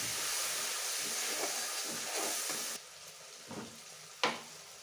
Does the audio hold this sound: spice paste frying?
yes